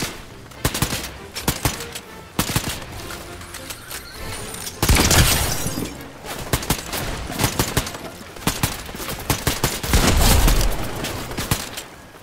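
Rapid bursts of gunfire in the Fortnite video game, with repeated volleys and a few heavier blasts, loud and dense throughout the scene with faint voices in the background.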